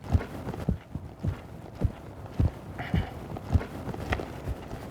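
Horse loping in a riding session while fitted with a lifter bit: regular soft thudding hoofbeats in a rolling three-beat rhythm, moderately close, with faint background ambience and no speech.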